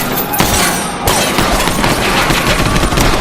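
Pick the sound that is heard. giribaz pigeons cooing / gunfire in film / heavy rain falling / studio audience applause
gunfire in film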